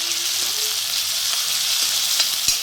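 Onion and tomato fry in hot oil for dal tadka, a steady bright sizzle with a few soft clinks of a spoon stirring the pan.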